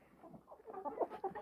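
Adler silver chickens, a meat-type breed, make faint, quiet clucks and soft murmurs in short, uneven bursts, heard from a little distance with no talk.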